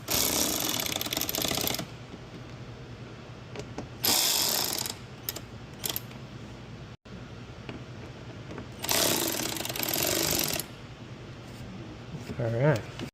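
Power tool tightening a splash guard fastener on a 2022 Nissan Frontier Pro4X, two loud bursts of buzzing impact-style rattle about two seconds long, with quieter shop noise and someone talking between them.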